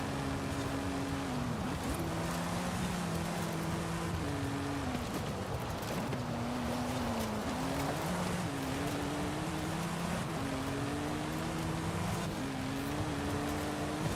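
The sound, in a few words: Subaru with stock engine in Forza video game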